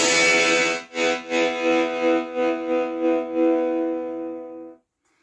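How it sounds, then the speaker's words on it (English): An electric guitar played through a rock distortion effect pedal rings out as a sustained, buzzing chord with a few rhythmic re-strikes, then cuts off abruptly near the end. "I can add some kind of rock guitar distortion."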